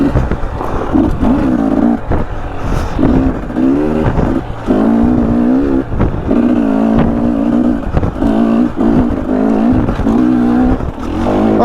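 A KTM 300 dirt bike engine lugs along a single track in Utah, its low throbbing drone rising and falling steadily and loud as the rider works the throttle, with brief clunks from the terrain.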